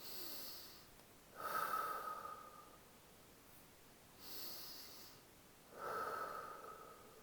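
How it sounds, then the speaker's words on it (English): Slow pursed-lip breathing during a gentle airway clearance exercise: soft, airy in-and-out breaths through narrowed lips, repeated in an even rhythm with quiet pauses between, close and faint. "So you're also going to do a kind of a pursed lip breathing for 2 steps of this exercise."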